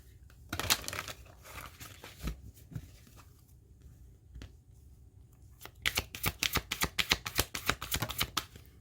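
Moonology oracle cards are shuffled by hand, with scattered riffling bursts early, a quiet pause, then a rapid run of crisp, evenly spaced card flicks close up.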